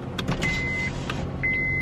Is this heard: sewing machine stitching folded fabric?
no